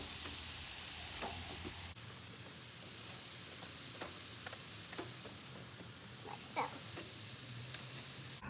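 Vegetables sizzle on a grill directly over a fire, giving a steady loud hiss with scattered small pops and crackles throughout and no talking.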